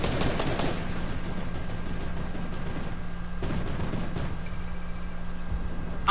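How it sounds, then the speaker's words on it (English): Gunfire in the Fortnite video game: a quick burst of rapid shots at the start, then a few isolated cracks and a later short burst, over a steady game background. "You're getting shot at."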